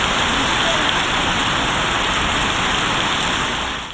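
Steady, loud rain pours down in Balochistan, a dense continuous hiss of drops that stays even throughout and tapers off only at the very end.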